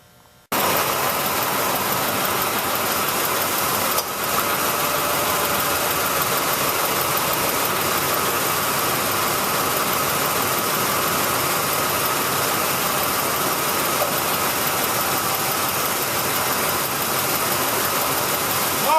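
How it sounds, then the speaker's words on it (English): A 2004 Ford Explorer engine catches after a brief silence and settles into a steady, close, even idle that runs on unchanged, with no voices. "now we're just going to go in and start the vehicle and get it warmed up to temperature"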